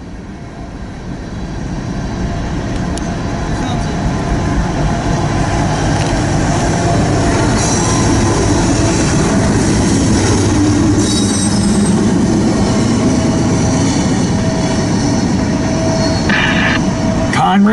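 An eastbound freight train with Santa Fe and Conrail cars rolls past nearby, a loud, steady rumble of wheels on rails that swells within the first two seconds and holds, with wheel squeal and clatter over a continuous roar.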